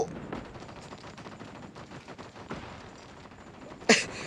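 Cannon fire from a tank in a video game sounds out with a sharp, loud blast near the end, over a steady bed of rumbling engine and battle noise.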